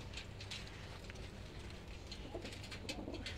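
Imamdin pigeons of a Gujjar fancier's loft coo softly against a steady background murmur, the low rolling calls faint and repeated over a few seconds.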